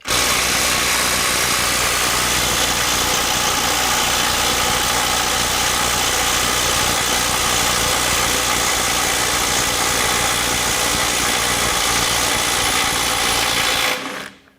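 A Skil IW5744 PWRCore 12V cordless impact wrench runs continuously as it backs off a bolt. The whirring hammering buzz is loud and steady for about fourteen seconds and then cuts off abruptly.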